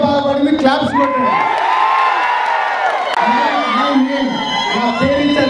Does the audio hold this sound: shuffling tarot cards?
no